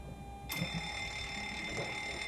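A cockpit cargo fire test bell in the X-Plane flight simulator rings out suddenly, a sustained bright tone that starts abruptly and holds steady for about two seconds.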